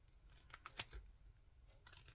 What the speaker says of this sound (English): I'm going to cut that a bit more.